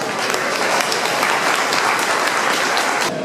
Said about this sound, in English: Could we give you all a round of applause?